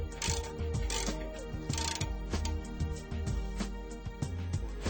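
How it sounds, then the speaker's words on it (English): A wrench ratchets steadily as jam nuts are tightened on the blade spring tensioner of a Rockline EZP1 precleaner, giving loud, close, continuous rapid clicking with slight pauses. "tightening the jam nuts"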